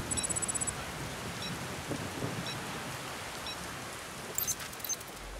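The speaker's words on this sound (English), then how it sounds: "It's just pounding us with rain." Rain pounds a Jeep Rubicon parked on Mt. Antero in Colorado during a storm, a dense steady hiss over the roof with a rumbling low end and a few sharp clicks near the end.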